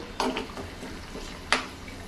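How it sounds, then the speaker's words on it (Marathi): A spoon scrapes and knocks a few times in a pan (kadhai) while stirring hibiscus flowers in oil, two sharper clinks standing out amid soft stirring, close and moderately loud. "थोडंसं असं चमच्याने हलवायचं सुद्धा"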